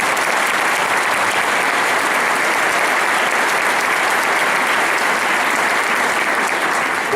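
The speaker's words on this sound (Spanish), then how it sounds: "un aplauso para nuestro rey" Loud, sustained applause from a large crowd at a church gathering, dense steady clapping with no break from start to finish.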